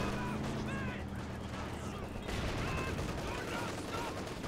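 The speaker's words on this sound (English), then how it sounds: "Kubel's firing point blank on Outlaw." Kubelwagen firing point blank in a Company of Heroes battle, dense rattling machine-gun bursts amid other battlefield gunfire, steady and moderately loud, with game voices and talk mixed in.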